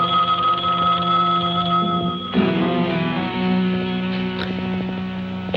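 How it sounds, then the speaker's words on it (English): A telephone bell rings loudly in a tense crime drama scene, with a sustained, rattling double-bell tone that breaks off midway and resumes, close and alone with no one speaking. "answer the phone."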